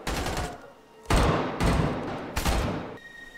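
Rapid bursts of automatic gunfire in an action film crackle in several loud volleys separated by brief pauses, sharp and close, with a faint voice at the start.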